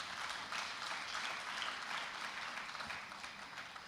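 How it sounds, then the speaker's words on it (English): Applause from a conference audience at an African Union small-business forum in Nigeria, a steady wash of many hands clapping at moderate distance, fairly soft and even throughout with no talk over it. "I think he deserves a resounding applause."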